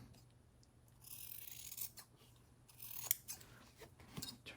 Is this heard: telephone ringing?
no